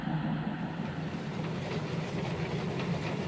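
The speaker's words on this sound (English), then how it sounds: "Fast, distinctive little rod engines helped deliver loads from the hills and mills to the main lines." A small steam rod-engine locomotive runs on rails, giving a steady, continuous rumble and hiss with faint rhythmic clatter, alone and at a constant moderate level throughout.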